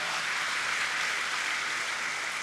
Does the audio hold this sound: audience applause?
yes